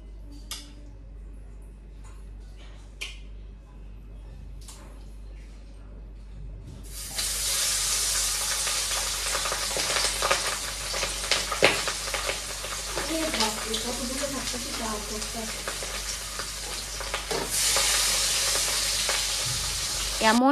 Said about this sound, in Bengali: ওই দেখো মাছ ওখানে ভাজছে